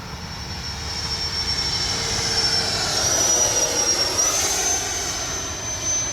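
A FlyFans SU-27 twin 64mm electric ducted-fan RC jet whines through the sky, a high steady turbine-like shriek that swells and fades as it passes overhead, with no voices.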